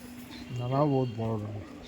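A Madrasi pigeon of tournament quality gives a couple of soft, low coos close by, each a rounded, wavering call, over faint room noise.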